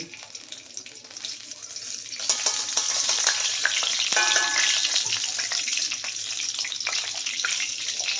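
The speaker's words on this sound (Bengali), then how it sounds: "আমার ফোড়নটা ভাজা হয়ে গেছে" Whole spices fry in oil and ghee in a pan, a loud steady hiss that rises and stays dense for several seconds, with faint clinks of a utensil while cooking katla fish-head pulao.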